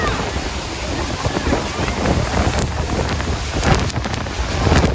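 Roaring rush of wind and churning water near Niagara's Horseshoe Falls, heard from the Hornblower boat tour: a dense, steady, close-up blast of spray and wind buffeting the microphone.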